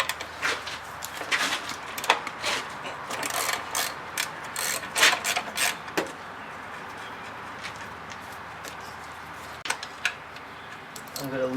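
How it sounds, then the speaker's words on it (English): Ratchet clicking while loosening the drive belt tensioner pulley on a 2000 Chrysler 300M engine during cylinder head work, several bursts of rapid metallic clicks up close over a quiet garage background. "So I'm going to loosen this tensioner pulley here."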